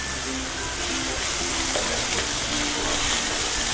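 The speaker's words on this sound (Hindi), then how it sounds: "हम प्याज नूं भी आपां लाल बन लवांगे।" Grated onions sizzle and fry in oil in a pan for Punjabi chole, a steady close crackling hiss throughout with no talking.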